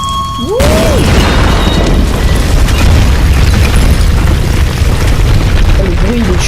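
A loud booming explosion erupts in the video game Tomb Raider Definitive Edition, a sudden blast followed by a sustained roaring rumble of debris and fire that fills the whole stretch.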